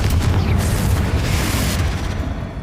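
Loud, booming spell explosion in a Harry Potter video game, a heavy low blast that rolls on with crackling debris and slowly fades over a couple of seconds, set inside a tomb.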